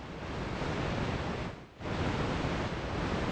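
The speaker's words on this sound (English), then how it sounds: "So here's our tape hiss." Simulated tape hiss from a lo-fi tape recorder app on iOS, a steady broadband noise wash with one brief dropout partway through, heard alone.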